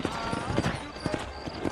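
Horse hooves clip-clopping in Red Dead Redemption, a steady run of close, fairly loud hoof falls with a faint horse snort under the ongoing game sound.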